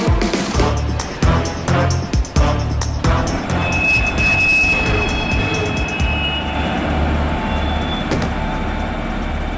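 A cartoon goods train rolls along with steady rumbling wheels and rail clatter, loud and continuous, with a faint high wheel squeal running through it and a few heavier knocks early on.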